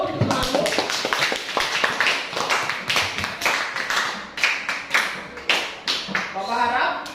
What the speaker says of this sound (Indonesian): Tepuk tangan dulu. Temanmu.